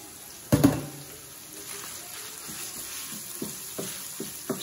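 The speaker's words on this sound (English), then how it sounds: "I'm gonna hit it with this taco seasoning and get mixing." Ground beef with taco seasoning is stirred on a Blackstone 17-inch E-Series griddle, a loud scrape near the start giving way to a low steady sizzle with occasional spatula clicks and scrapes.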